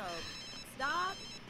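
Telephone ringing in The Sims 3 video game, a short electronic ring burst with tonal harmonics, heard once near the middle of the moment over faint background game sound.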